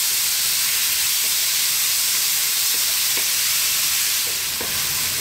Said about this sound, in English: Now we're going to go in with our onions. And we're going to cook these for about 4 to 5 minutes.